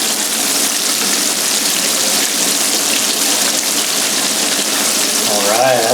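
Vegetables stirred into a simmering striped bass curry, producing a loud, constant bubbling, frying hiss close up that continues unbroken throughout.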